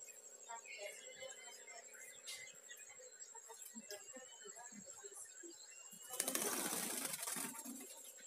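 A tame, rare green pigeon (punai) moving about with soft, faint rustles, then a loud burst of wing flapping close by near the end, with faint voices in the background.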